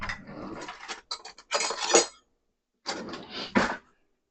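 A spoon handled among dishes in a home kitchen while preparing holiday sweet potatoes, with close clattering and scraping in two bursts separated by a silent pause.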